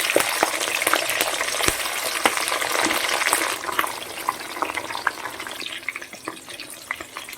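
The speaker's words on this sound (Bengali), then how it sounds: "প্রথমে আমি চিংড়ি মাছগুলোকে হালকা করে ভেজে নেব" Close sizzling and crackling of prawns frying in hot mustard oil, with sharp spits and pops scattered throughout, loud at first then easing a little.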